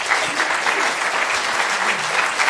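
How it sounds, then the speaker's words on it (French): Dense, steady applause from a conference audience at Futurapolis 2017, loud and continuous throughout with no gaps, filling the room right after a talk ends. "Je crois qu'on peut l'applaudir très fort."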